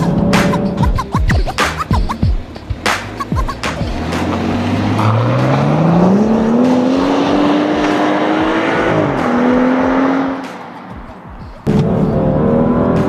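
A 2013 BMW X5 engine revs hard in sport mode, pitch climbing steadily to a high scream near 7,000 RPM before dropping off, with rough scraping bursts at the start and a sudden cut near the end.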